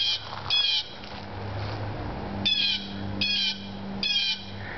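A hawk calls in a backyard, its sharp, shrill screeches coming in several short bursts spread across the clip, moderately loud against a steady low hum.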